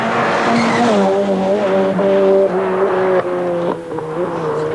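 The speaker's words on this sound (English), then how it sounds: "This is Lovell, the Irish tarmac champion, also in a Mike Little prepared Ford Sierra Cosworth." A Ford Sierra Cosworth rally car races on tarmac at the 1989 Circuit of Ireland Rally, its engine note loud and steady with rising and falling pitch as it drives, tyres scrubbing faintly beneath.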